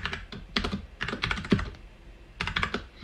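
Someone types a username on a computer keyboard in close, crisp bursts of rapid keystrokes, separated by brief pauses, with no talk.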